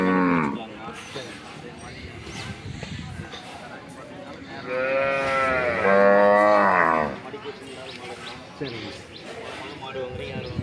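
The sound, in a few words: cattle mooing at a country cattle market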